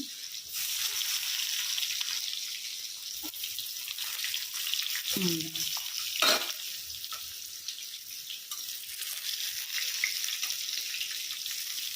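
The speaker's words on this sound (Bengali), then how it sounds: "সেই জন্য বেগুনগুলোকে আগে একটু ভেজে নিই, তারপর আলুগুলোকে একটু নরম করে নেবো, মানে ভেজে নেবো।" Eggplant and potato pieces fry in a pan, giving a steady, fairly loud sizzling hiss throughout, briefly broken midway by a short clatter of stirring.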